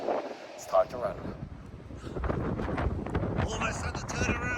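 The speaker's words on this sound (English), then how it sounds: "it's a tad windy" Blustery wind buffeting the microphone, a rough low roar that swells and persists throughout, with a brief thump near the start.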